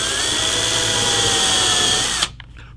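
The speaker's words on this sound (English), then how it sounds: "So we'll drill a test hole." Forstner bit drilling a test hole into a rosewood guitar fretboard, a loud steady whirring power-drill drone that runs unbroken for about two seconds, then cuts off abruptly, leaving faint rustling.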